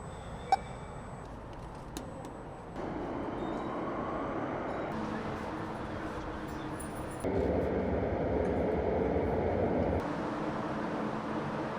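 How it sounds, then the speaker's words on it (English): A metro train in Seville, Spain, rumbles steadily, its low drone shifting in stages as it moves, with faint screeches and clatter near the start. "we are going to be traveling by metro into the city"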